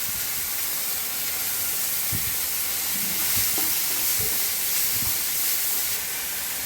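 Coriander leaves sautéed in a pan for fried chicken liver, a steady loud hiss and sizzle with a few faint stirring knocks underneath.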